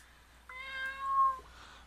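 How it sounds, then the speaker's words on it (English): A cat lets out a single drawn-out meow, clear and moderately close, rising slightly before trailing off, in a quiet indoor room with no talking. "Stupid cat."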